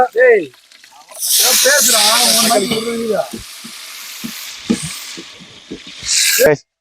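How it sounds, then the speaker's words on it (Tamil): Onions drop into a hot frying pan during outdoor cooking with friends, a loud broad sizzle that bursts up and then settles into a hissing crackle, with people talking before and around it. "இப்போ வெங்காயம் போட போறாங்க"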